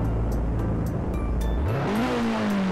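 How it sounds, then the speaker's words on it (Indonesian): A loud Kawasaki Ninja H2 motorcycle engine in a driving video game idles with a deep rumble, then revs up sharply, its pitch climbing and holding high, heard up close without any talking. "ini dia suara knalpotnya Ninja H2 ya guys ya"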